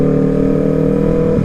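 A noisy motorcycle exhaust rumbling at steady low revs close by, a continuous loud drone that barely changes over a short stretch with no talking.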